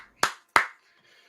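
Two sharp, close claps ring out about a third of a second apart, then quiet, a brief sparse bit of applause after a joke during live football commentary.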